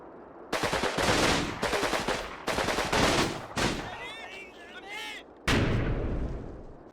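Grenade explosions and gunfire in the WWII video game Combat Mission: Battle for Normandy, a series of loud sharp blasts and bursts close together, with whizzing sounds in between.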